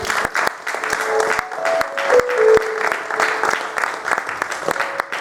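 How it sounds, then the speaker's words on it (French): A congregation at a French-language evangelical church service claps and cheers for the Lord, steady close applause with scattered sharp claps and voices rising over it. "Acclame pour le Seigneur."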